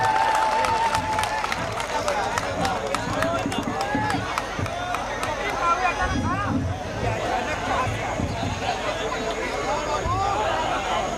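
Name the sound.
audience applause at a poetry gathering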